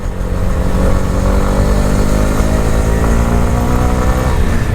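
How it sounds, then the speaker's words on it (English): A 2018 Honda CB125R motorcycle engine revs up close, its small buzzing exhaust note climbing steadily and loudly throughout. "another thing I really like about this bike is the notes on the exhaust."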